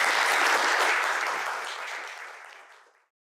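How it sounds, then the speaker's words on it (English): Audience applause at a pride society learning-series talk on queer mental health, a dense burst of many hands clapping that holds strong for about a second and then fades steadily away to silence. "Round of applause."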